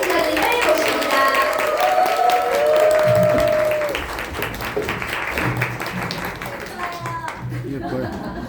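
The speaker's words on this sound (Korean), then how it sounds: "큰 박수로 모시겠습니다" Seminar audience giving a speaker a warm round of applause, steady dense clapping that swells then settles, with scattered voices and a few laughs mixed in.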